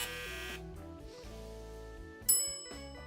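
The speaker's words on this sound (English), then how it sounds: "That's the microwave. The old microwave is done." An old microwave gives a single bright ding as it finishes, ringing out clearly and decaying over a low steady background hum.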